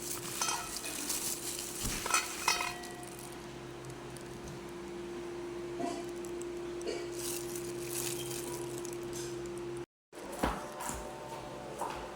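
Butter sizzling and frying in a pan, a steady hiss that continues through the clip with occasional stirring and scraping sounds, fairly quiet, with a brief dropout near the end.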